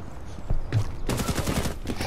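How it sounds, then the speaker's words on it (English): Gunfire in the video game Rainbow Six Siege: a quick burst of loud, sharp shots with a single thud just before it, close and punchy. "That was a loud ass shot too."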